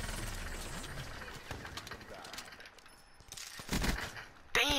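Shotgun blasts from a multiplayer crew battle video game, several sharp reports scattered through a busy mix of game noise, with a louder burst near the end and faint talk in the background.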